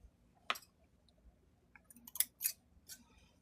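Scissors trim excess fabric from chain-pieced quilting pieces, giving about half a dozen quiet, crisp snips at uneven intervals, close by with no talk.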